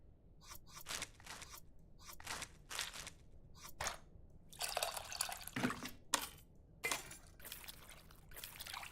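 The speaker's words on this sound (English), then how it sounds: "It looks like I have to mix the tamarind with the water to extract its essence multiple times." Water swirls and splashes in a bowl as tamarind is stirred and squeezed, in repeated bursts of wet churning with brief pauses between, in the cooking game Venba.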